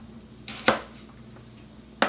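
Knife slicing peeled rutabaga into quarter-inch slices: two or three crisp, close chopping strikes on a board, spaced apart, over a low steady hum.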